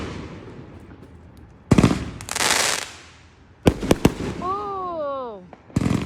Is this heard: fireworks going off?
yes